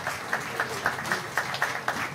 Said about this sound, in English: Now let's give them another round of applause.